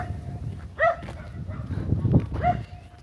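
Dogs on a trek in the Peruvian Andes bark and yip nearby, two sharp barks about a second and a half apart with whimpering noises between, over faint outdoor background.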